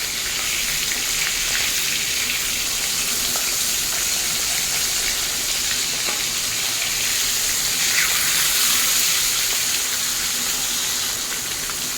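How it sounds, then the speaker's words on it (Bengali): A lemon-marinated pomfret fish fries in hot oil in a pan, giving a steady, dense sizzle and crackle that holds evenly from start to finish with no voices. "এই পিঠটাও এইভাবে লাল লাল করে ভেজে নেব।"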